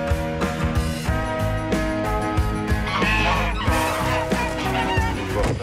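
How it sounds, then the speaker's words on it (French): Geese honk repeatedly and loudly nearby, overlapping calls with scuffling and background noise, no clear speech. "Ça, c'est pas des canards, ça. C'est des jarres."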